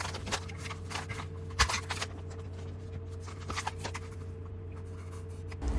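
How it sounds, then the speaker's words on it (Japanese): A paper cutter bought at Daiso slides through paper with soft, scratchy rasping strokes and a few light clicks, close and quiet over a low steady hum. "カットに使うのはダイソーで買ったペーパーカッターです"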